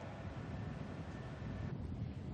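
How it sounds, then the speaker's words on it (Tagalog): Strong, gusty typhoon wind roars across a coastal shoreline at Baler, Aurora, buffeting the microphone in a dense, steady rush, with high waves churning faintly underneath. "Mataas at malakas ng alon sa baybayin at pabugso-bugso na rin ang hangina."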